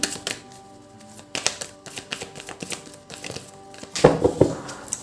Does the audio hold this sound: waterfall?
no